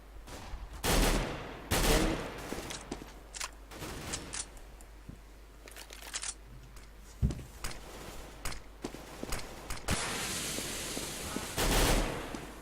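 Rapid bursts of gunfire and clustered shots crack through a competitive CS:GO match on the Inferno map, loud and close, repeating in volleys across the whole stretch.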